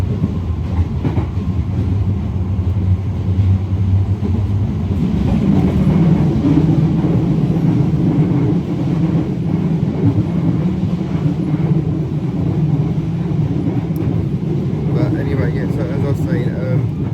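A London Underground Piccadilly line train runs slowly past the District line platforms, a loud continuous rumble with rhythmic wheel clatter, with voices talking over it.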